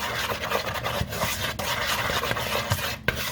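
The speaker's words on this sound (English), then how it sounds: "we're just going to whisk that all together so that those dry ingredients can get well combined together" A whisk stirs dry ingredients, salt and baking soda, together in a bowl for lemon pound cake muffins, giving a continuous scratchy rasping with quick repeated strokes and a few sharper taps against the bowl.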